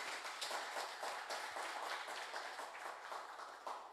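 A seminar audience applauds to welcome three panelists, steady dense clapping heard faint and distant, without talk, fading slightly toward the end.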